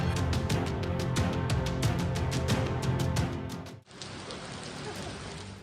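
Heavy monsoon rain pours down steadily in a dense, continuous hiss with a short dip partway through before the downpour resumes.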